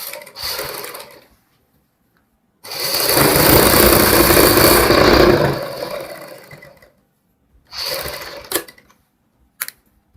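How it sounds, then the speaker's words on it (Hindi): Sewing machine running close and loud in short bursts while stitching a double seam, one line above and one below, on an elastic piece for a ready-made pleated belt saree, with pauses and brief clicks between runs. "अब हमारी जो लास्टिक वाला पीस है इसमें हम डबल सिलाई लगाएंगे, एक ऊपर एक नीचे।"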